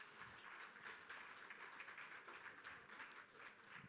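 Faint, distant applause from an audience cheering the builders at a demo day event, a dense continuous patter of many hands with no distinct individual claps.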